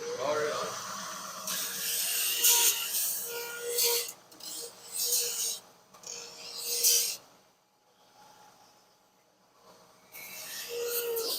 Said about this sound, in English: we're just taking the tips and tail, the rust off the tip and tail before it goes in the machine